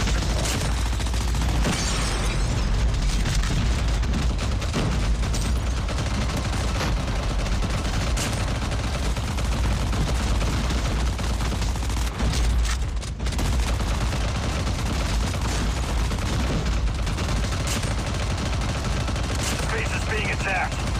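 Dense, sustained turret gunfire in Call of Duty: Mobile zombie mode roars almost nonstop for twenty seconds, loud rapid bursts layered with explosions and game effects, with voices occasionally underneath.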